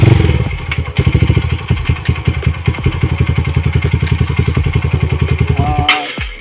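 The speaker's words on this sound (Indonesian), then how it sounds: "bagaimana motor tetap stabil ketika dalam keadaan tidak balance. Saya latihannya seperti ini." A trail motorcycle ridden slowly for balance practice chugs close by in a steady pulsing idle rhythm with occasional clattering thumps, ending in a short rev and a clunk.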